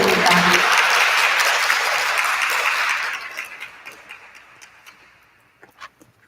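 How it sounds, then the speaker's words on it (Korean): Applause from the audience at an artist talk in the Daegu Art Museum, dense loud clapping for about three seconds that then thins into scattered individual claps and fades out. "박수 부탁드립니다."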